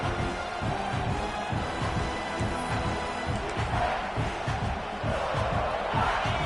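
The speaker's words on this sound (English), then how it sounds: "It's early, but this crowd is fired up. Listen to this noise here." A stadium crowd at a football game roars loudly and continuously, a dense wall of cheering and shouting that swells and stays high throughout.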